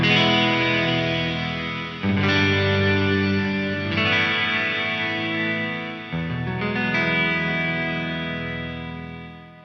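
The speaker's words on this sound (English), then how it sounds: "So that on its own is a pretty awesome sounding big space reverb." An Eventide H9 pedal set to a big space reverb with its size turned well up, sustaining dense guitar chords that bloom and wash into long, lush tails, with new strums entering at steady intervals.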